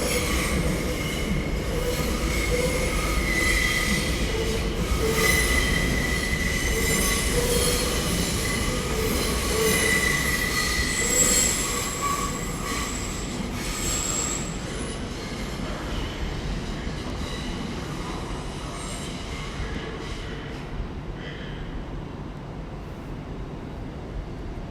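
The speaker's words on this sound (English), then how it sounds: "We have a TFRL service now going back out." A TfL Rail train pulls out of London Paddington station, its wheels squealing and rumbling loudly at first, then fading gradually as it moves away, with no voices.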